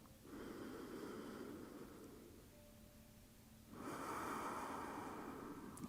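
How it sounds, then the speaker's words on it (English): Slow, deep breathing during a yoga session for shoulder tension relief, a soft inhale, a pause, then a fuller exhale, quiet and close, with no talking. "Last big breath here."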